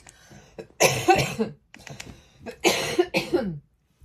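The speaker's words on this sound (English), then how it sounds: "Sorry about that nasty cough." Two rough, wet coughing fits close to the mic, each a cluster of several hacking coughs separated by a brief pause.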